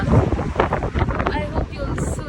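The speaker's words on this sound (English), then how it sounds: "It's a really windy day" Strong gusts by the Seven Sisters cliffs buffet the microphone with heavy low rumbling and roaring noise throughout, loud and close.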